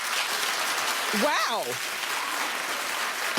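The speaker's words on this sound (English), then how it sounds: "Clap if you're with me." A studio audience at a daytime talk show applauds steadily, the clapping sustained throughout while a voice speaks briefly over it.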